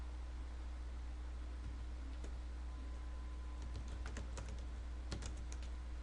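Quiet keyboard typing with scattered soft key clicks, clustering into a quicker burst of taps near the end over a steady low hum.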